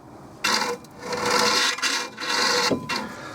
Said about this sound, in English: When I push it flat and spin it, you can hear that it grinds on the shit guard at the back.